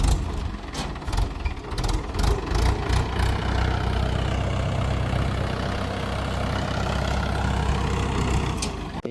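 A tractor engine idles and runs steadily while helping pull a stuck Mahindra Scorpio-N, a continuous close diesel rumble with a few sharp knocks at the start and no talk.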